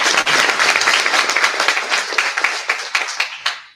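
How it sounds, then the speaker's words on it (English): An audience at an innovation and entrepreneurship awards ceremony gives a sustained round of applause, with dense, steady clapping from many hands that fades out at the end. "let's give them another round of applause."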